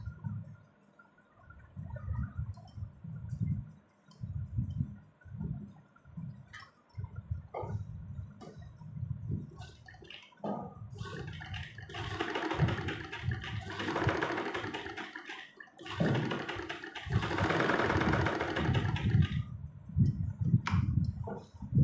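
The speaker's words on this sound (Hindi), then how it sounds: "किनारे किनारे पे हम सिलाई लगाएंगे।" A sewing machine stitches along the edges of kurti fabric in bursts of rapid mechanical chattering, broken by short pauses and fabric handling, running longer and more continuously in the second half, close and fairly loud.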